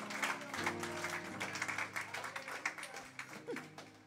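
A church congregation claps in praise, first as a dense burst and then settling into rhythmic, separate claps, with singing and voices carrying over the clapping.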